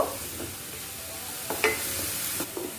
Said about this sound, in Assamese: প্ৰথমতে নিমখ নিদিওঁ, নিমখ দিলে পানী এৰিব চব্জিখিনিয়ে, সেইকাৰণে শুকানে অকণমান ভাজি ল'ম।